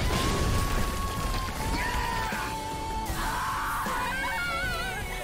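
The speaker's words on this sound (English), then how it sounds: "It's a lot of screaming." People scream and yell continuously in a TV show, loud and sustained over a dense, busy background of other sound.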